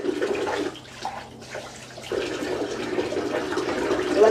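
Hot tap water running into a bathtub used for washing dishes, a steady close splashing rush that dips briefly near the middle and then resumes at full strength.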